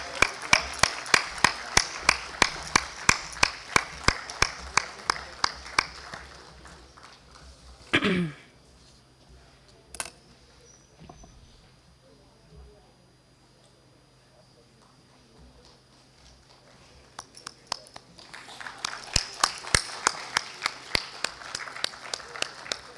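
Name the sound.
conference audience applause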